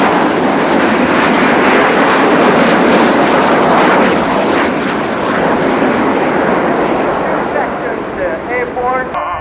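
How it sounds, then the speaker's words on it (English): A Luftwaffe Eurofighter Typhoon jet makes a flypast at the RIAT 2019 air show, a loud, sustained engine roar that stays dense and powerful throughout, then begins to thin and ease as it passes. "EF-2000s, and indeed it's the Luftwaffe Typhoon"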